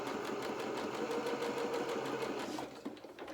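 A sewing machine stitching a doll shirt, its rapid even mechanical chatter running loud and close before slowing and stopping near the end, with no talking.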